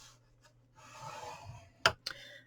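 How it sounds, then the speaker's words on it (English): Scoring a piece of card for an Easter chick gift box: a soft scraping stroke along the card, followed by two sharp clicks or taps close by, all in a quiet room. "we're going to score it at 1 inch"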